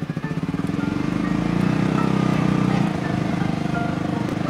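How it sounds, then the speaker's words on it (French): A boat's combustion engine runs steadily at close range, a loud continuous rumbling drone that swells slightly in the middle before easing back, with no voices over it. "On démarrer le moteur thermique pour pouvoir remonter."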